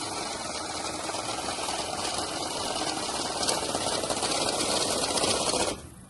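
An electric cash counting machine riffles through a bundle of banknotes with a fast, steady whirring flutter up close, then cuts off abruptly near the end.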